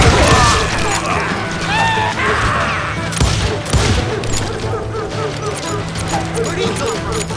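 Gunfire from the Western shooter Call of Juarez: Gunslinger, a dense fusillade of crackling shots and impacts running the whole stretch under shouted voices and game noise.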